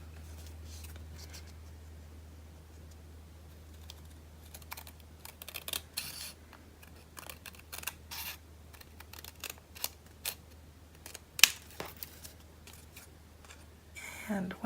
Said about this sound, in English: cut away your extra paper